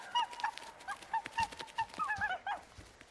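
Dog in a video game, whimpering and yelping in a string of short, high, pleading cries with small pauses, close and clear over a quiet background.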